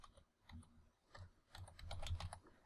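Keystrokes on a computer keyboard entering a command, a quick irregular run of soft clicks and taps close by, with no voice over them.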